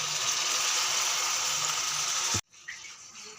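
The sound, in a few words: hot water poured into cooking pan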